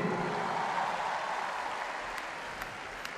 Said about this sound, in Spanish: Aplauso para todos los niños.